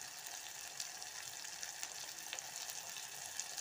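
Spice masala sizzling and frying in hot oil, a steady close crackle with small pops throughout and no talking.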